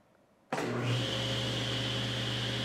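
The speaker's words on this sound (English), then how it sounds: "We'll see if it can start this 3 horsepower table saw." A 3 horsepower table saw powered by a surge-tested power system starts abruptly after a moment of quiet, its motor spinning up into a loud, steady whine and hum that holds to the end.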